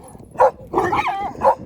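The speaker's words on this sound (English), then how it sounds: "We don't need a barking contest" A dog gives a few close, sharp barks and yips in quick succession, loud against a quiet background.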